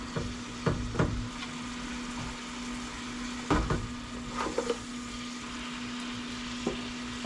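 Butter sizzles steadily in a pan on a truck camper cooking setup, a constant soft frying hiss with a faint hum beneath and a few sharp clinks and scrapes of utensils against the pan.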